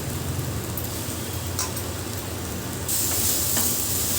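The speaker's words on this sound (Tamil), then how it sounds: "இறால் சேர்த்துட்டு நல்லா கலந்து விட்டுடலாம்." Half a kilo of cleaned prawns sizzle and fry in a pan with turmeric, a steady hiss with occasional scraping stirs, growing brighter and louder near the end.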